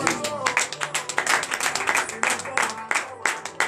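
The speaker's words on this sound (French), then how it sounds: "Donnez de vive acclamation." Worshippers at a morning prayer service in Benin clap in bursts and call out acclamations right after a prayer, rhythmic close claps mixed with raised voices.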